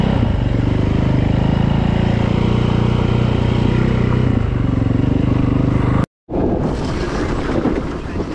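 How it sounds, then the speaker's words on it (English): A Yamaha WR450 dirt bike drones steadily while being ridden on rough access tracks, with heavy wind buffeting. The sound cuts out abruptly for a moment, then resumes. "I'm just on the motorbike, that's what I do."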